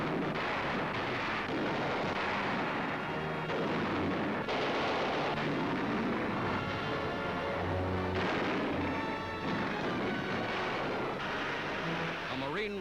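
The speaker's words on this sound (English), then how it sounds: "Marine runs to cover as enemy fire grows intense" WWII battle on Okinawa in 1945, with continuous dense gunfire and booming artillery in old film-sound quality, loud and unbroken throughout, with rapid bursts and heavy thuds layered together.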